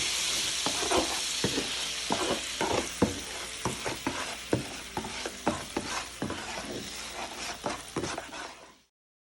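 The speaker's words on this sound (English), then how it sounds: "We're just going to stir this together." Water and brown sugar bubble and sizzle in a hot pan while a utensil stirs them in a steady series of close scraping strokes before the sound cuts off.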